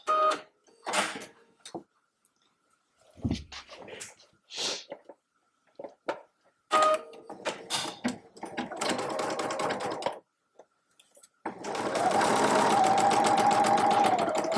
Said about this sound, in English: All right, let's get sewing.